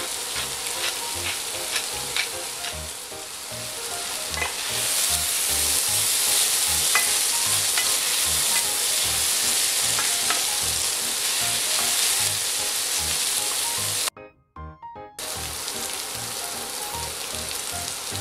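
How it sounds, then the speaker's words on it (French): Almonds toast in a hot pan with a loud, dense sizzle and crackle that runs continuously, with stirring scrapes throughout and a brief drop to near silence before the sizzle resumes. "Amandes que je vais faire griller, bien entendu"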